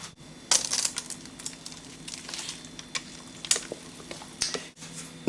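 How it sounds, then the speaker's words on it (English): Jamaican fruit cake batter is scraped into a lined baking tin, with soft scattered crunching and squishing scrapes at close range and no voices. "Right, let's add the mixture to the tin."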